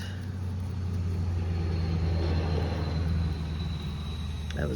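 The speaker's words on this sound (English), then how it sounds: "pickup truck that just went by." A pickup truck goes by outdoors on a misty morning, a low steady rumble that swells and fades over a few seconds with no talking.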